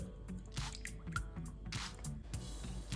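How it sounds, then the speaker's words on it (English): Tomato sauce is stirred into mac and cheese, making soft, wet squelching and squishing sounds in an uneven rhythm, quiet and close. "Give it a stir."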